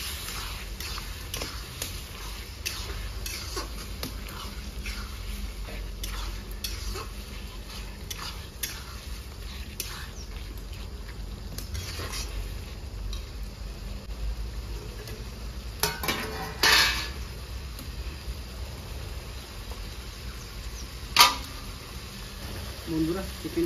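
Cut potatoes frying in a pan for a restaurant-style chicken curry: a steady, close sizzle runs throughout, with repeated scraping and stirring of a utensil against the pan and occasional louder clanks.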